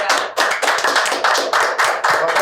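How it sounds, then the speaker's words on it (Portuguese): A studio audience gives a round of applause for a female guest on a Brazilian talk show, with dense, sustained clapping that swells in several waves throughout. "Uma salva de palmas."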